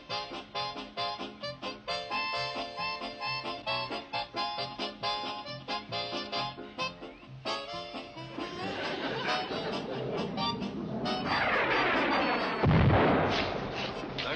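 A deep sonic boom rolls in as a rising, broad rumble over a rural railroad setting in a 1960s TV comedy, swelling and peaking in a heavy low thump near the end after a stretch of busy background music.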